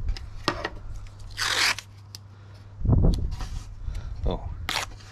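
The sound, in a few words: blue masking tape being pulled off the roll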